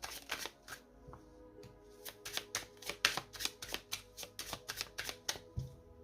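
A deck of oracle cards being shuffled by hand, a rapid run of crisp riffling slaps and flicks repeating close up for several seconds with no talking.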